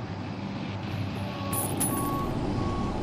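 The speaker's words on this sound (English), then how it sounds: "Give that truck power and away it goes" A truck in the logistics game LOGistICAL starts up and drives off: a steady, close engine rumble with a faint intermittent beeping tone and a brief burst of hiss near the middle.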